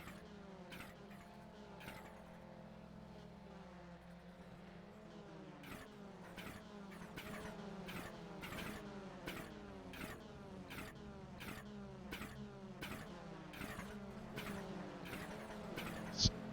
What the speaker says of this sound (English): Turbos making a fair bit of noise.